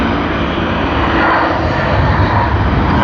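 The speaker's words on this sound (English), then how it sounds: "we are getting Air New Zealand Boeing 787" Loud, continuous roar of an Air New Zealand Boeing 787 airliner's engines at Sydney Airport, a broad steady rumble close by with no talking.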